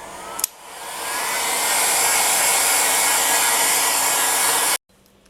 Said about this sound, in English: I have a heat gun and it's on a very low heat setting